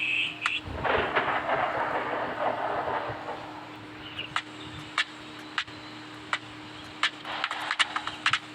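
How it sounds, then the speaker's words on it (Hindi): Rain hisses steadily, with a low rumble of thunder early on. Sharp drip-like ticks are scattered through the later part, and the whole scene sounds moderately distant. "बारिश हो रही"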